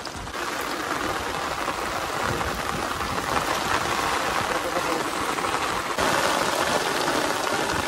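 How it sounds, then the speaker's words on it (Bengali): Heavy rain pours onto a river and a boat during a fishing trip, a dense, constant close roar of drops with no gaps and no clear speech. "প্রচুর বৃষ্টি হচ্ছে"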